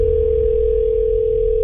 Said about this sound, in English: We're gonna call him right now.